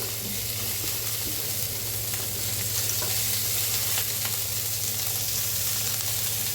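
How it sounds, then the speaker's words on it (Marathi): Desi cluster beans (gavar) roast in a pan with a steady, close sizzle and crackle, with faint stirring scrapes throughout and no talking. "आता ह्याच्यात आपल्याला गवारी भाजून घ्यायचे"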